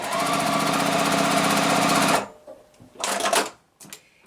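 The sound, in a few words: sewing machine stitching a quilt seam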